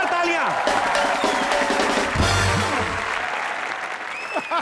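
Studio audience at a comedy show bursting into loud, sustained applause and cheering, dense clapping filling the room for several seconds before tapering, with some voices and whoops mixed in.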